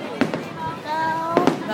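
Fireworks going off outdoors, two pairs of sharp bangs about a second apart with crackling in between, heard under people talking nearby.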